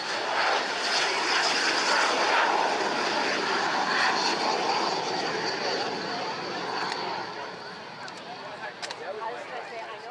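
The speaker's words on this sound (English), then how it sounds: "let's get this plane in the air." A fighter plane's aircraft engine roars loud and steady as it takes off at an air show, a broad sustained rush that slowly fades near the end, with a voice commentating over it.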